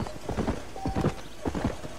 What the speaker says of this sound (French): Prenez votre cheval et avancez plus vite, appuyez sur A